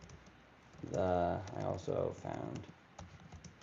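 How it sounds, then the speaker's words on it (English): Soft, scattered key clicks come from someone typing on a computer keyboard with one hand. The clicks are faint and sit around a briefly spoken word. "I hate typing with one hand."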